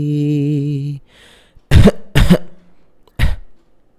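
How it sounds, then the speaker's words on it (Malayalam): Three sharp, forceful coughs in quick succession close by, following a short stretch of hummed or sung voice. "എന്തുകൊണ്ടാണ് ഞാൻ ലാസ്റ്റ് ചുമച്ചതെന്ന്"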